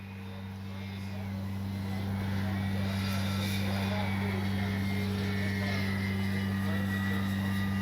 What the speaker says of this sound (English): That motor is making a little bit of noise